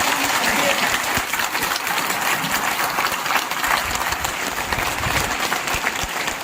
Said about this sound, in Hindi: माननीय कृष्ण बेदी जी के सम्मान में 1 मिनट उतनी तालियां बजनी चाहिए कि बाहर तक आवाज उन तालियों की गड़गड़ाहट की चली जाए